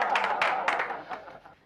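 A small studio audience claps during a party-meeting scene in a Hindi TV sitcom, with brief dense claps that fade out within about two seconds.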